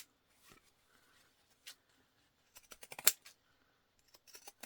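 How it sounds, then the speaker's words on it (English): Pinking shears cut fabric around curves on a sewing project, making a few quiet, scattered crunchy snips with a cluster of sharper snips in the middle. "to go around with some pinking shears"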